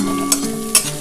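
Chopped ginger tossed into onion and garlic frying in a pan for dhaba-style egg tadka, with a steady sizzle broken by two sharp stirring scrapes; no one speaks.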